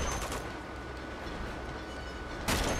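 A moving train in Uncharted 2 gives off a continuous low rolling rumble and rattle, steady and close, with brief bursts of broadband noise at the start and near the end.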